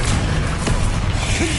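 A dense, loud blast of the Bombarda spell in the video game Hogwarts Legacy, a continuous rumbling boom with whooshing debris filling the whole moment.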